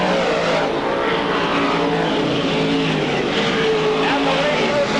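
Camaro race cars roar around the Fonda speedway in a 1995 race, a continuous loud engine drone with shifting pitch, heard under an announcer's commentary.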